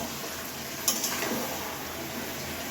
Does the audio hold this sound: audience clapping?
no